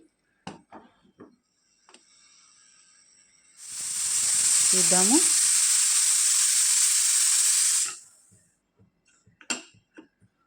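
A pressure cooker cooking khichdi vents steam in a loud, steady hiss lasting about four seconds, with brief kitchen clatter and a short spoken word before and after.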